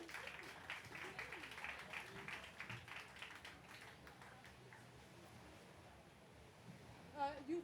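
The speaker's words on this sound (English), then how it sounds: "Let's give them a warm round of applause." Audience applauds award winners gathered on stage at a creativity tributes ceremony, a fairly faint scattered clapping under a voice speaking over a microphone, fading midway before a brief louder burst at the end.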